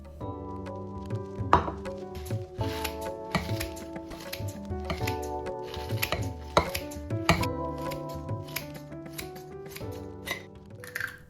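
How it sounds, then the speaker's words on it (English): Steady knife chopping of bell peppers and spinach on a cutting board, rapid uneven strikes close by with occasional clinks of utensils, no talking. "First, I'm chopping some bell peppers and spinach."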